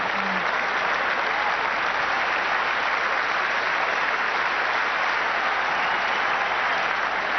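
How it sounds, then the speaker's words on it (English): A large cricket crowd at a 1996 World Cup semi-final in Kolkata applauds in a dense, steady roar of clapping that carries on unbroken, greeting a batsman's half-century. "there's no wonder everybody's applauding"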